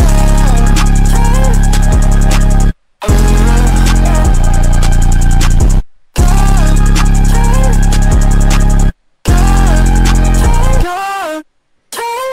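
Loud processed vocal ad-libs with heavy effects in a 2hollis style, made with an FL Studio vocal preset, pitched screams and wails sliding over a dense beat, broken by short silent gaps.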